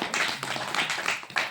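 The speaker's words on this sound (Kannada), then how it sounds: "ಇವತ್ತಿಲ್ಲಿ ಜೋರಾದ ಚಪ್ಪಾಳೆ ಹಾಕಿ." A group of children claps in a classroom, a short burst of quick, sharp claps in uneven bunches, moderately loud in a small room.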